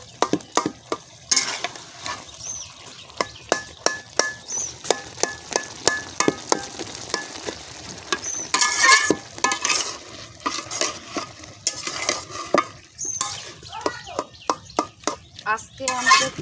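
Rohu fish and pumpkin stirred in a pan, with repeated scraping clatter of a spatula over a steady sizzle, loud and close, with occasional speech and clucking chickens in the background.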